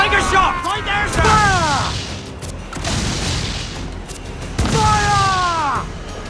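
Ship cannons boom in the naval battle game Assassin's Creed 4 Black Flag, with heavy blasts and crashing impacts rolling through a loud, busy battle soundscape while voices shout over it.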